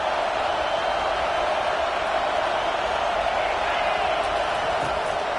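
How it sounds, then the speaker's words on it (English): Football stadium crowd noise during a game, a dense, continuous roar of many voices filling the space with steady loudness throughout. "This crowd bringing the energy and noise early."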